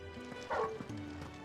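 A dog in Final Fantasy XVI gives one short, quiet bark, a single yip-like woof that fades quickly against a faint ambient background.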